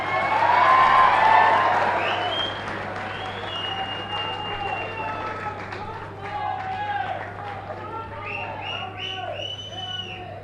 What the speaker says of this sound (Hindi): आप तालियां बजाकर स्वागत।